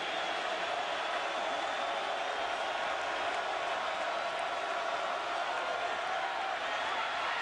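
Steady wash of a large Rose Bowl stadium crowd cheering for Michigan against USC, a continuous loud roar with scattered whoops, even in level from start to finish.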